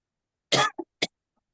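A person coughs once hard, then gives two shorter follow-up coughs, close and clear against silence.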